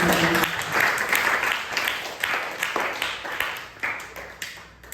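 Applause from an audience at a church gathering, a burst of dense clapping that thins into scattered, uneven claps and fades out toward the end.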